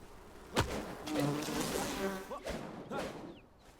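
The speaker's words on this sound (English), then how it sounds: "So I just had some bees attack me just now." Bees swarm and attack the player in the video game Enshrouded, a close, loud insect buzzing that rises and falls with a couple of dull thumps, heard alone without talk.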